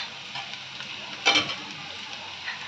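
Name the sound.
spices frying in a pan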